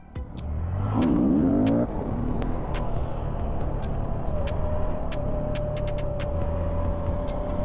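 Honda Grom and Kawasaki Z125 small motorcycle engines at an outdoor stunt session, a loud rising rev that holds as a steady high drone, with sharp clicks and brief noises over it and no clear talk.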